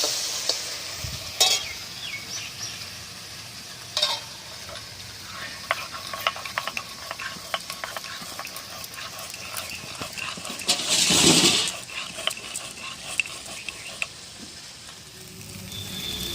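Okra frying in a pan gives a soft continuous sizzle with intermittent scrapes and clatters of stirring, including one louder burst of hissing near the middle.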